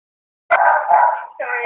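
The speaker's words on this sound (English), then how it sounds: "that's the sound of the dogs" Dogs break out barking and howling at once after silence, a loud sustained chorus of yelps and howls up close, with a second wave following a brief dip.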